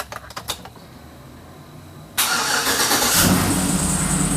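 A car that has sat a while is started: a few quick clicking cranks, a pause, then the engine abruptly catches and settles into a loud, steady idle close by.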